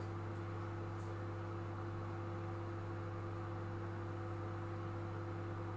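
A running microwave oven drones steadily in a home kitchen, a constant low electrical hum with a faint fan-like hiss, heard alone.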